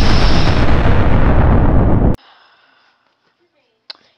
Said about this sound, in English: Oh God, it's gonna explode.